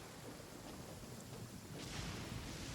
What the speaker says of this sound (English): It's raining a lot, actually.